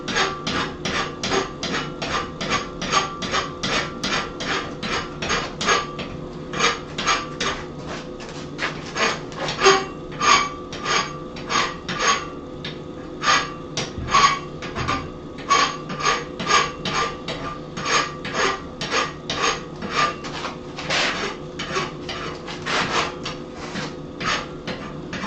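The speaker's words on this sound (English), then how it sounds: "rasp that little lip down that got pushed up" A file rasps down the pushed-up lip on a nail header, with rhythmic, steady back-and-forth metal strokes, close and clear, repeating for the whole stretch with brief pauses.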